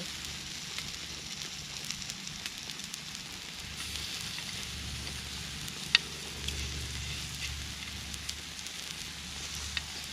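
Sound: pork sizzling on a Thai moo kratha grill

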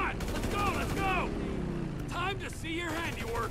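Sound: gunfire in video game GTA 5

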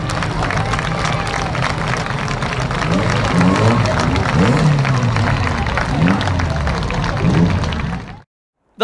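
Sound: round of applause for the defending champion

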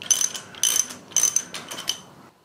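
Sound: bolts being tightened with a ratchet on a lathe

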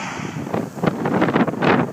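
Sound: wind blowing in a field

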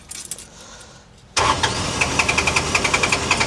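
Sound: Komatsu PC05 mini excavator engine starting

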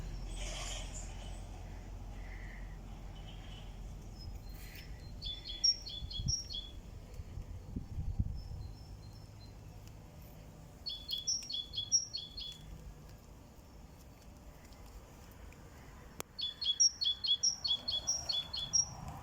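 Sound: birds singing

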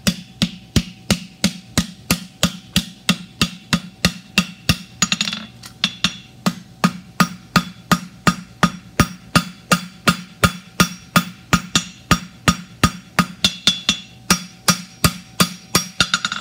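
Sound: hammering hot metal while forging

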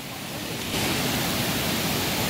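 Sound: swollen river flowing after Storm Julia

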